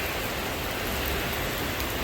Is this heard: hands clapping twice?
no